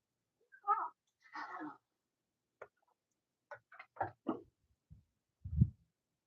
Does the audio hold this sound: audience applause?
no